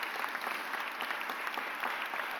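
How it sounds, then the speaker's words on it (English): Audience applause at a mayoral press conference, steady dense clapping held throughout at moderate level, with no voices over it. "Give her a round of applause."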